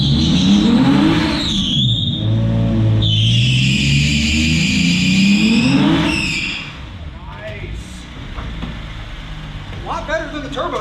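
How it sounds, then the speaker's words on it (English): A 2010 Hyundai Genesis does an indoor burnout, its engine revving hard in rising and falling sweeps with screeching tires, loud and close, then easing off; voices talk over it. "Nice little burnout though."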